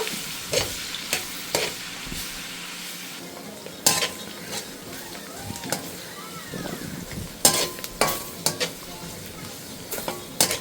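Chopped onion frying in a pan crackles steadily up close, punctuated by repeated spatula scrapes and clinks against the pan, with no one speaking.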